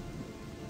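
Steady rain falling in the video game Gothic 2, a dense continuous hiss and patter at low, even volume with no talk over it.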